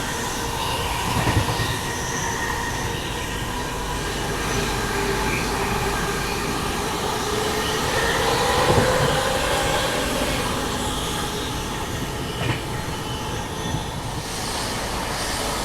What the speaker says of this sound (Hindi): यहाँ गाड़ी अपनी दिल्ली रोड रेलवे स्टेशन निकल रही है।